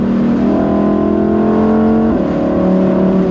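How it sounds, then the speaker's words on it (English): Lamborghini engine with seven-speed paddle-shift gearbox, loud and close, holding a steady drone that shifts pitch abruptly midway as a downshift lands, with no talk over it. "now you use the paddles. Downshift. So it's got 7 gears."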